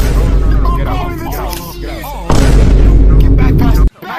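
An explosion sound effect booms loud and heavy in the middle, a deep sustained roar that cuts off abruptly, laid over busy talking and voices in a chaotic indoor scene.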